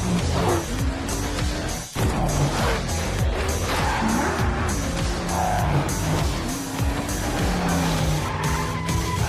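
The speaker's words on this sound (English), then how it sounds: "we've got Midas driving" A Ford Mustang skids and squeals its tires in a Fortnite game trailer, engine roaring under a music score, with repeated tire screeches and revving passes throughout.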